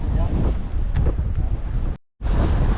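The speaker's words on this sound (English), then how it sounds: "I hope the wind's getting picked up in here" Strong wind buffets the microphone while cycling on a hilly road tour, a loud continuous roaring rush with gusting swells, briefly cutting out near the end before resuming.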